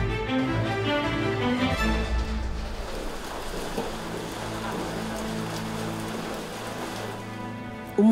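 Rain falls steadily in a dense hiss, heavy and close throughout, with a low rumble underneath.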